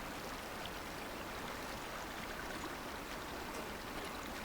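Creek water flows steadily in the Way of the Hunter video game, a soft, continuous broadband wash and trickle heard faintly and alone, without talking.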